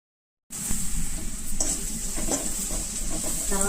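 Onions fry in a pan with salt and turmeric for a sprouts masala curry, giving a steady close sizzle and hiss that starts abruptly after a short silence and carries on with faint stirring scrapes.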